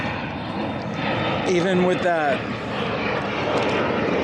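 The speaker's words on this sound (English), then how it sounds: "there is an airplane flying over" An airplane passing overhead near an airport by an abandoned island in New York City, a steady distant drone in a quiet outdoor setting, with a person briefly speaking over it.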